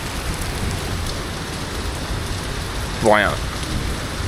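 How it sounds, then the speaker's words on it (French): Heavy rain pours steadily on a Mexico City street, a dense close hiss of drops on surfaces throughout, with a brief passing sound near the end and a few words spoken. "Je suis bloqué sous la pluie."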